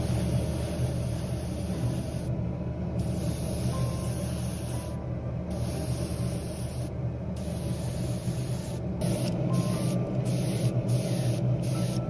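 Paint sprayed with an airbrush onto 1/24 scale BMW M4 G82 wide body kit parts, a steady close hiss interrupted by short on-off bursts and pauses near the end, with no talk.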